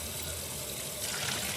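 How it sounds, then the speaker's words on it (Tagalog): Water from freshly cooked lasagna pasta drains out in a steady rushing gush, loud and close, swelling slightly toward the end with no voices over it. "Dito na drain na natin ang tubig."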